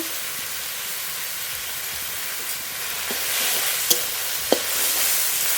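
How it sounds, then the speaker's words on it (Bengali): Bele shak greens seasoned with salt and turmeric fry in a pan with a steady soft sizzle, broken by a few sharp clicks and scrapes from stirring. "এবার শাক ভালো করে ভেজে নেব"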